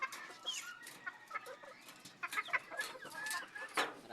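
Bantam chickens, a rooster and hens, cluck and chatter close by in quick, uneven bursts, with a few sharper squawks among the soft calls and no talking.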